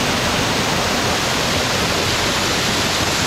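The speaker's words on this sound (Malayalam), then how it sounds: "മരഞ്ചോട് വാട്ടർഫോൾസ്" Maranchodu waterfall pours with a dense, unbroken roar of rushing water, loud and steady throughout, with no voices.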